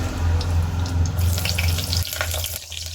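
Dense, continuous crackling sizzle of cinnamon, cloves, cardamom, cumin and bay leaf frying in hot oil, close and loud, easing slightly toward the end.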